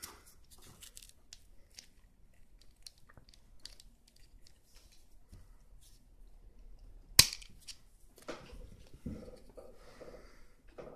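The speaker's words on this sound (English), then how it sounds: "But can it actually cut the wire?" A Stanley 12-in-1 multi tool snips through wire, giving one sharp, loud metallic snap after a run of quiet clicks and handling noises, followed by softer rustling.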